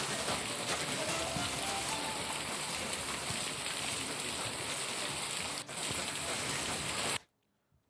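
Heavy monsoon rain pours without a break in Chikkamagaluru district, a dense, steady hiss of downpour filling the whole clip before cutting off abruptly near the end.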